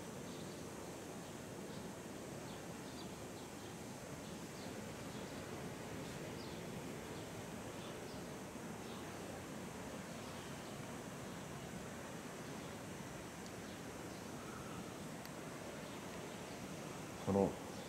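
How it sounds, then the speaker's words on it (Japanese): Mediterranean Sea waves at dawn in Netanya, heard from a hotel balcony as a soft, steady, continuous wash of surf, distant and unbroken, with no voices. "この地中海の波の音を聞いてください。"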